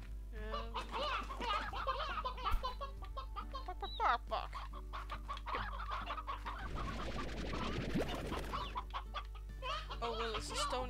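A stony hen in the game Slime Rancher clucks repeatedly in quick, irregular bursts over a steady low hum, the fowl calls close and moderately loud with no talking.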